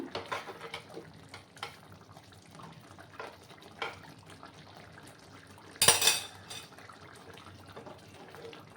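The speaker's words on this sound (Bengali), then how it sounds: "ভালো করে আমি আবার মিক্স করলাম" A spoon stirs a ridge gourd and besan curry finished with ghee in a pan, making soft scrapes and light taps, then one sharp loud clank of metal against the pan partway through.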